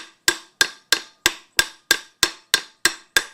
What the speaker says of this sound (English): I'm just doing like little taps so I can kind of feel it as it's moving